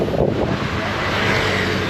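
Strong stormy wind buffets the microphone at Marina Beach, a loud continuous roar and rumble with gusting texture throughout and no speech.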